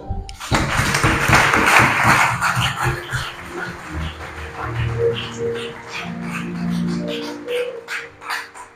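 An audience at a French-language religious gathering applauds to acclaim God. Loud, dense clapping starts suddenly, then fades over several seconds while a voice speaks or sings underneath.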